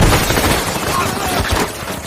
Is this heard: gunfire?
yes